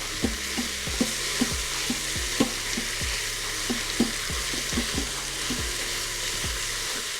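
Food browning in an Instant Pot Duo Crisp for spaghetti: a steady sizzling hiss with repeated scraping strokes of a utensil at a brisk, uneven rhythm, close and clear with no talking.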